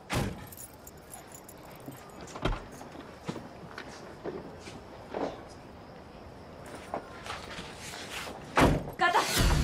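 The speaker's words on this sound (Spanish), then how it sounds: "¿vos tenés las llaves de la casa?" House keys jangle in short metallic bursts, near and moderately loud, scattered over a quiet indoor background with a few thumps and shuffling movements.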